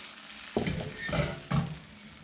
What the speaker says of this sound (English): just let this fry up